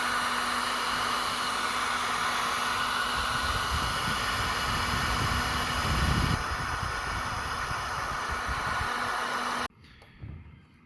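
Heat gun or hair dryer blowing steadily on the chrome ST badge of a Focus MK2 ST, a loud continuous whooshing hum that cuts off abruptly near the end, with no talking.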